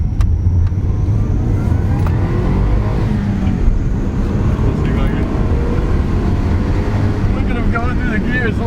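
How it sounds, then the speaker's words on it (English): A car accelerates through its gears, the engine droning steadily and loudly from inside the cabin while people talk over it throughout. "Going through the gears, loving it."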